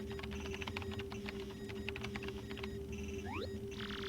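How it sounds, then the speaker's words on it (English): Quick keyboard typing in the Paper Mario: The Thousand-Year Door video game, a run of light clicking taps over a steady background hum and game music with a rising electronic tone near the end. "Use the keyboard in front of you. Enter the recipient address and message."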